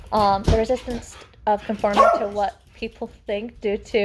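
A dog barks repeatedly indoors in short, sharp yelps scattered through the clip, fairly close and loud, heard over a person talking.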